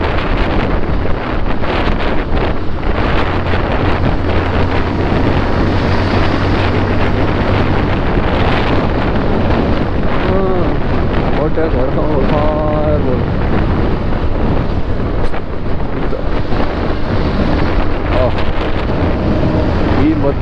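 Wind roars loud and steady against the microphone while riding on a road from Bangalore to Hubli, a constant buffeting rush with an engine hum beneath it.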